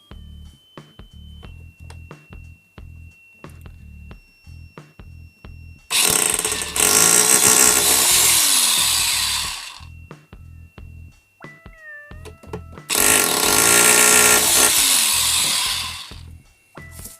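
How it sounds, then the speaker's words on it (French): A power drill boring a hole into a wall in two loud, close bursts of harsh grinding, each a few seconds long, separated by quieter clicks and handling noises. "On perce. On perce."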